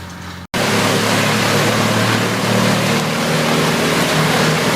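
A Vermeer WC2300XL whole tree chipper runs at the edge of a wooded area near a suburban home, giving a loud, steady engine roar that stays unbroken after a brief gap at the start.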